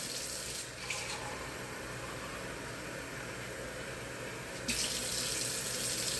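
Kitchen tap runs steadily into a pot for beef stew, a continuous splashing hiss that swells louder near the end as the flow strengthens, with no talking.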